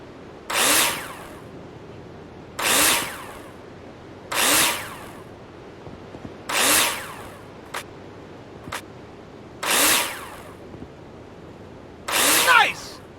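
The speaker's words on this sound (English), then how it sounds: "Take your drill out and screw them in." A power drill in the Builder Simulator video game drives screws into plasterboard in six short, loud whirring bursts spaced about two seconds apart, with faint clicks between them.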